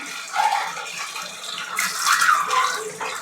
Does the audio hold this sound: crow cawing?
no